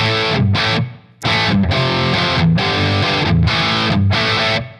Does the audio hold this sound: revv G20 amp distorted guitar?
yes